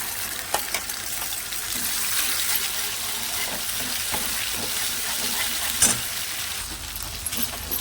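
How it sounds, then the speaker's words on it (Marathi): Spice masala roasting in oil in a hot kadhai, a continuous close sizzle with scattered scraping and stirring clicks, no talk. "यामध्ये ना आपल्याला हा मसाला भाजून घ्यायचा आहे चांगला"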